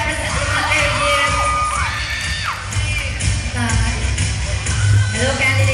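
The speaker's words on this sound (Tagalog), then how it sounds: "Lagaan mga palakpak dyan." A school nursing pageant audience shouts, whoops and cheers loudly, with high excited yells from many voices over a steady crowd roar and scattered clapping.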